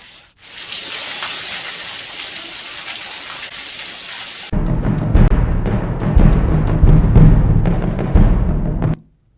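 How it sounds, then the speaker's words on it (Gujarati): Monsoon rain falls in Gujarat's Aravalli and Banaskantha area, first as a steady, even hiss, then a heavier, louder splashing downpour with deeper, fuller water noise before it cuts off abruptly. "વહેલી સવારથી સમગ્ર જિલ્લામાં વરસાદ શરૂ થઈ ગયો છે।"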